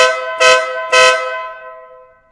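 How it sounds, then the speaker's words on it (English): Compact shaft-driven air horn on a 2020 Ural Gear Up motorcycle gives two loud, close blasts about half a second apart, the harmonic tone ringing out and fading after the second honk. "It's a compact air horn compressor direct shaft driven system, and it makes a good sound."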